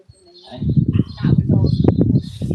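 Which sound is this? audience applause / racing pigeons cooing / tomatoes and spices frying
racing pigeons cooing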